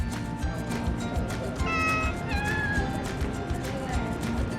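A cat in Parga, Greece, gives several drawn-out meows close by, with a murmur of outdoor background around it.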